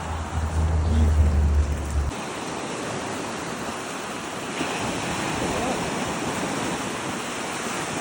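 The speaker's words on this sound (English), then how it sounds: "The tide is coming back in. There's lots of waves." Ocean waves wash up on a beach at Salmon Point as the tide comes in, a steady broadband surf roar with wind noise buffeting the microphone loudly for the first two seconds, then continuous rolling wash.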